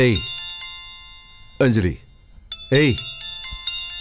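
A mobile phone ringtone plays a bright, repeating electronic melody, close and clear, twice broken by a voice speaking briefly over it.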